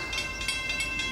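Diesel-powered train pulling away along an electrified line with overhead catenary wires, a steady rumbling engine and rail noise with hissing upper tones, continuous and moderately loud throughout.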